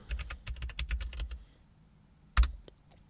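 Fingers typing a password on a computer keyboard, a quick run of close, crisp key clicks that stops, then a single louder keystroke like pressing enter after a pause.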